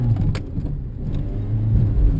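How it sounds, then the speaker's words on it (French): A rally-style car engine revs and accelerates with a gritty, throaty drone, loud and close throughout, no talking. "Là on a un bruit un peu plus de voiture de rallye"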